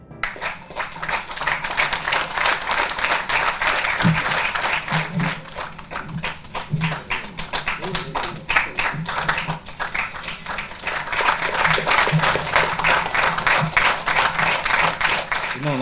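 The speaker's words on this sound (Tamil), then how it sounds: "இன்னும் நல்லா கைத்தட்டு உற்சாகமா இருக்கலாம்." At an award event where an actor honors social workers with incentive money, a crowd claps loudly and continuously for about sixteen seconds, with uneven rhythm and some sharp individual claps standing out.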